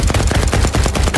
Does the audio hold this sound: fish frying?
no